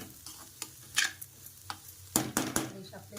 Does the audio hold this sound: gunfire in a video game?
no